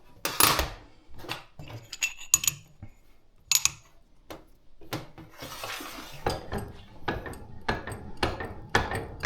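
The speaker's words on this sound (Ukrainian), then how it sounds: "Тепер беремо обжимку і ключ" Metal tools rattle and clink close by as a crimp tool and a 10 mm wrench are picked up and handled during a bicycle dropper post service, in irregular sharp clicks and jangles with some quieter gaps.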